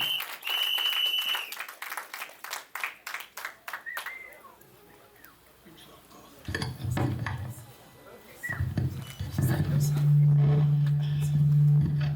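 A community gathering applauds the Soba family representative with steady, brisk clapping from a crowd that fades after a few seconds, followed by someone speaking over quiet room noise.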